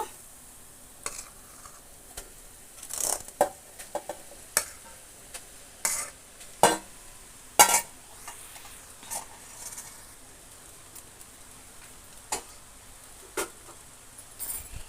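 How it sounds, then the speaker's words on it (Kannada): Cooked rice goes into a pan for egg rice, with soft scraping and stirring of the grains and a faint sizzle underneath, broken by repeated short clinks of the spatula against the pan. No one speaks. "ನಾನು ಈಗ ಅನ್ನ ಮಾಡ್ಕೊಂಡು ಮಾಡಿಟ್ಕೊಂಡಿದ್ನಲ್ಲ ಈಗ ಅನ್ನ ಹಾಕ್ತಾ ಇದ್ದೀನಿ"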